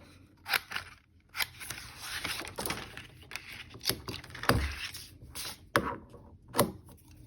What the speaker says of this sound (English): I'm going to cut these out real quick.